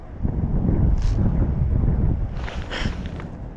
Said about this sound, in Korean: 바람이 이상하게 불어가지고